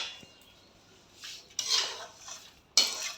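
Semolina and gram flour mixture being scraped from a wok onto a plate, heard as a few sharp metal-on-metal clinks and scrapes of a spoon against utensil, quiet between two louder bursts near the end.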